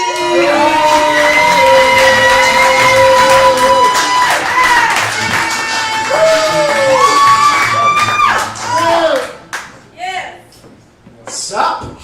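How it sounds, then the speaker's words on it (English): Comedy club crowd at the Spitfire Comedy House cheers, whoops and claps for a comedian taking the stage, loud at first with music and shouting over it, then thinning into scattered claps and voices. "Please give a big round of applause."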